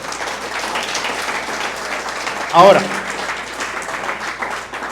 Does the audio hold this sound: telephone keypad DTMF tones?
no